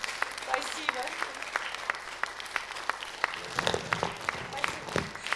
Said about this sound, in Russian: Театр танца Art Vision сегодня были с нами, им также бурные аплодисменты.